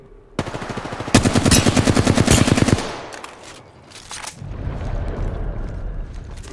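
Rapid automatic gunfire in Apex Legends rattles out loud and close in a sustained burst, followed by a brief pause, a few more shots and rumbling game ambience.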